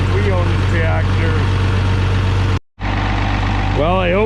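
Engine of an International 706 tractor idling steadily, close and loud, with a brief drop near the middle; someone speaks over the running engine.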